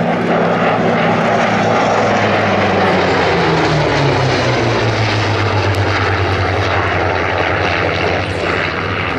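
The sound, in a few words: propeller warplane flying over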